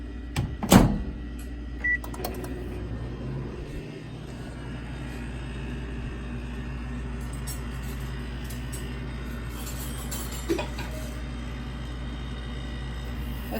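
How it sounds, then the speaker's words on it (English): A microwave oven running to melt chocolate, a steady low hum that goes on without a break after a door clunk at the start, with a few faint clicks and no talk. "We're going to put this in the microwave for 15 seconds."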